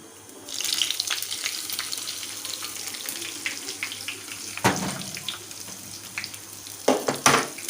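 A steady hiss of a tadka tempering for kadhi sizzling in hot oil, with occasional louder crackles and pops near the end.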